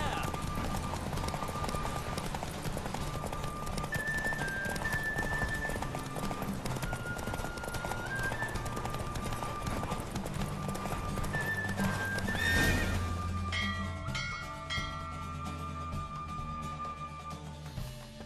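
Rhythmic clip-clop of galloping hooves with whinnying in a horse race in The Witcher 3 video game, over a melodic musical background, with voices speaking; the music shifts near the end.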